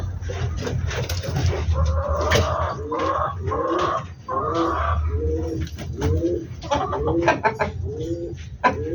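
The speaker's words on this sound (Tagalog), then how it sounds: "ang mga ibon ni Boss Malvin, mga ring color" Pet ring-colored pigeons in a coop give repeated soft, throaty coos in rolling phrases, close and clear over a low background hum.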